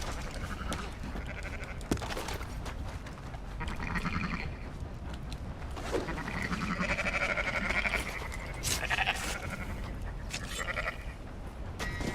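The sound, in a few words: sheep bleating in video game Red Dead Redemption 2 Online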